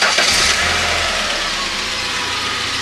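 Engine with a magneto ignition idling at a fairly high speed, a loud, close, steady running drone with a faint rhythmic knock and no voices.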